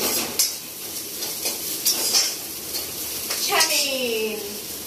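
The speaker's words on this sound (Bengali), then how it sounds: "এখানে ডিম ভাজা পর্ব চলছে" Eggs fry in a pan for chow mein with a steady sizzle, while a utensil scrapes and clinks against the pan in irregular strokes.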